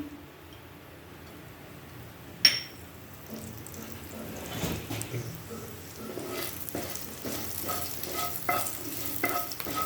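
Cumin and green chilies fry in a pan, a soft crackling sizzle with a sharp clink of a utensil early on, then steady stirring scrapes and sputters that grow busier toward the end.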